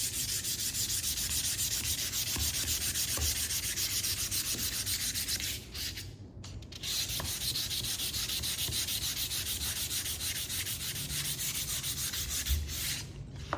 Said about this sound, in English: I'm going to take the sandpaper that is in my kit, and I want to sand this